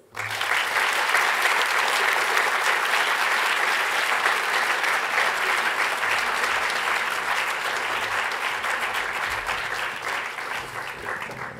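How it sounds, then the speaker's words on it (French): An audience at an HEC debate featuring Jean-Marc Jancovici breaks into sustained applause, a loud, even wall of clapping that holds for over ten seconds and only slightly eases toward the end. "Un tonnerre d'applaudissements pour M. Jean-Marc Jancovici"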